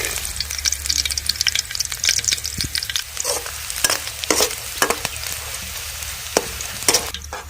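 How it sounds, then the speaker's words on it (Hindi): Curry leaves are dropped into hot oil with fried onions and sizzle loudly, crackling and spitting up close, with a few sharp pops and stirring scrapes over a constant hiss and no voices. "अब डालने जा रहे हैं हम उसमें कड़ी नीम पत्ता"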